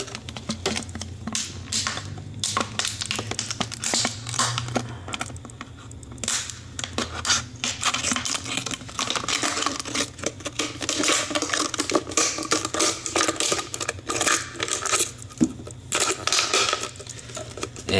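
Scissors or a blade cut through a thin plastic water bottle, giving close, dense crackling and scratchy snips that continue in irregular bursts with brief pauses, loud and near, with no voices.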